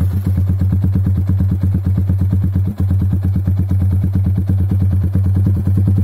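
Motorcycle idling with a short 20 cm WRX GP 6 Type K silencer, giving a steady, loud, close rhythmic low putter with regular even exhaust pulses throughout.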